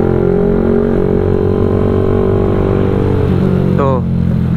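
A Yamaha MX King 175cc motorcycle engine drones loudly and steadily while being ridden, with a brief rising whine near the end and a voice talking over it.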